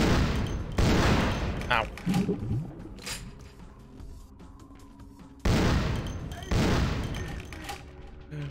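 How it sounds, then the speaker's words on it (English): Gunfire in the Vampire: The Masquerade - Bloodlines video game: loud, booming shot bursts at the start and again later, separated by quieter stretches, with someone talking and a brief pained cry in between. "every time I shoot him with a bullet"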